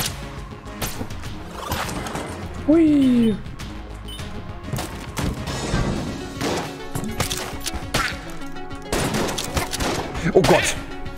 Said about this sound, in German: Dass das so explodiert, habe ich nicht vermutet.